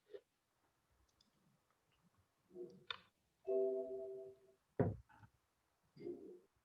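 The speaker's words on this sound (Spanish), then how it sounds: "Clic en la ventana de comandos y control C se detiene." A mouse click and a Ctrl+C keypress on a computer keyboard in a quiet room, heard as a few faint, separate clicks and taps spread over several seconds.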